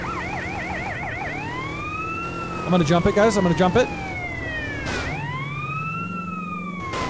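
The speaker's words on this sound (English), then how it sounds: "I can't turn the siren off." Police-style emergency siren from a vehicle in GTA: San Andreas, wailing loudly and continuously with shifting up-and-down sweeps throughout, while someone talks over it and a burst of other game noise briefly cuts in partway.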